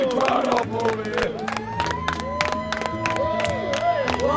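A dense street crowd at the San Gennaro Italian feast fills the air with overlapping chatter, shouts and whoops, nearby and continuous, with tonal calls and music-like sounds threaded through.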